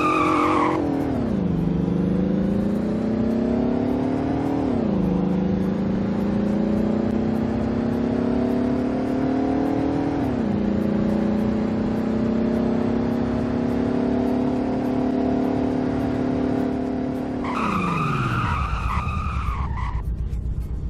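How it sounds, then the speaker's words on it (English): A car in the Roblox Greenville game accelerates hard through several gear shifts, its engine pitch climbing in steps, then brakes violently with a sharp tire squeal and drop in revs near the end, close and loud. "Now let's see how this does in the 0 to 100 in braking test."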